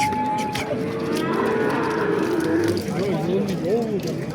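A cow at the Kattaqo'rg'on livestock market moos loudly and close by, its long call rising and wavering, with people talking faintly in the background.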